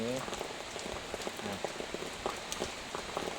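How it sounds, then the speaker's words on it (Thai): Steady rain falling on a surface during a Thai rain-calling wager, a dense patter of drops with close splats throughout, continuous and fairly loud, with a brief voice near the start. "เดี๋ยวจะพาฝนมาลงให้ดู ตอนนี้ก็มาแล้วพี่น้อง"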